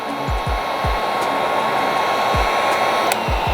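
A heat gun blows steadily over a Jeep Grand Cherokee tail light, a constant loud airy whoosh with a faint whine, heard close and alone without speech.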